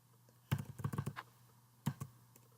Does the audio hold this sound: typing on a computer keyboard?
yes